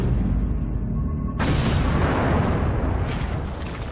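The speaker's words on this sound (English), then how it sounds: "we're using ammonium nitrate mixed with fuel oil, so when we set it off, it's going to explode and make a huge crater" An ammonium nitrate and fuel oil charge detonates to blast out a crater, a loud, sudden boom that rolls into a long, sustained rumble of blast and debris.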